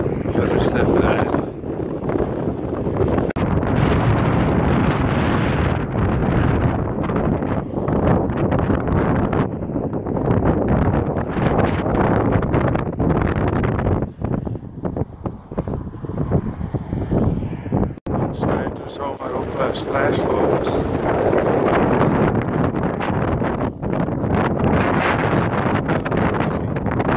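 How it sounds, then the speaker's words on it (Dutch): Strong wind buffets the microphone on an endless open road in Chile, a loud, continuous roaring rush with gusts that ease briefly midway before building again. "Er staat veel wind vandaag."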